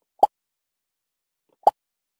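Two short, clean Scratch pop sound effects triggered by clicking a sprite, evenly spaced about one and a half seconds apart, crisp and close with silence between them.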